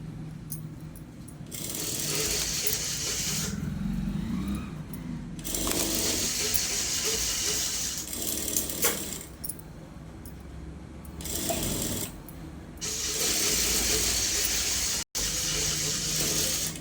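A sewing machine stitches a blouse in several bursts of fast whirring, close and fairly loud, with short quiet pauses between runs and no speech.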